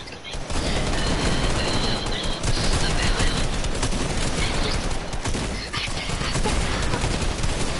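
Gunfire in an online multiplayer shooter game, a dense and loud stream of rapid shots and bursts layered over one another that continues through the whole stretch without pause.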